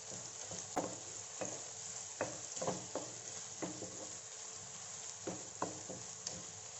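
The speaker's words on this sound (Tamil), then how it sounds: "வெங்காயம் நல்லா டிரான்ஸ்பரண்ட்டாக எல்லாம் நல்லா ஈக்குவலாக வதக்கி விட்டுக்கோங்க." Onions sautéing for egg curry in a pan, a quiet steady sizzle broken by repeated sharp scraping and stirring strikes of a utensil at irregular intervals, close and faint.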